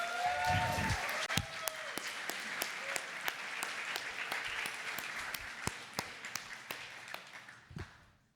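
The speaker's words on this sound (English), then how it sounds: "can I have a big clap for Sean and Jonathan?" Audience at a hackathon closing ceremony applauding in a hall, scattered sharp claps thinning out gradually over several seconds, with a brief voice at the start.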